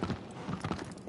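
A horse's hooves clip-clop in a video game, a quick run of soft, rhythmic hoofbeats over about a second, faint and alone.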